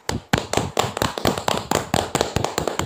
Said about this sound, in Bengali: আমরা হাততালি দিয়ে তাকে সম্বর্ধনা জানাচ্ছি